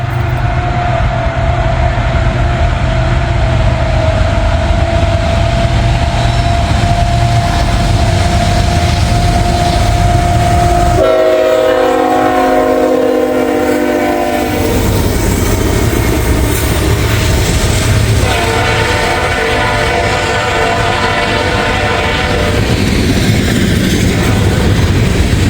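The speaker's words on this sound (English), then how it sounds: "looks like we got an ethanol train here" A heavy ethanol freight train rolls past close by in the rain with a continuous loud rumble and clatter; a sustained blaring horn tone sounds partway through.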